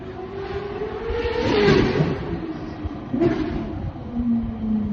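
A Ferrari 458 with a freshly rebuilt transmission gives a deep engine and exhaust note that swells into a whooshing pass, eases off, then surges again more briefly, fairly close and alone.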